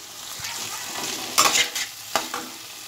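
Bitter gourd and pumpkin dish with sugar being stirred in a pan, a steady soft sizzle broken by a few louder scraping strokes of the spoon, close and alone without talk.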